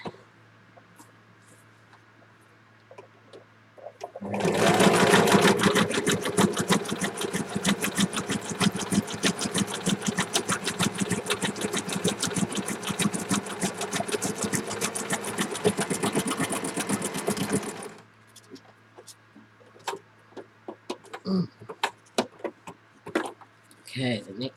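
A sewing machine stitches in a steady, loud mechanical run for about fourteen seconds, starting abruptly and stopping cleanly, with quieter handling clicks before and after.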